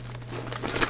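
Plastic packaging from a government-issue MRE, a military field ration, crinkles in short, rustling bursts. It is close and fairly soft over a steady low hum, with no speech.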